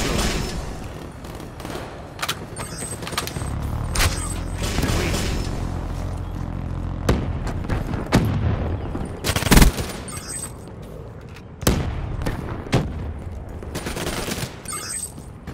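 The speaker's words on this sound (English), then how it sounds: "Friendly lightning strike inbound." Lightning strike airstrike blasts in Black Ops III, a dense, loud barrage of sharp explosive cracks and rumbling booms arriving in rapid irregular bursts, mixed with rattling gunfire and game noise.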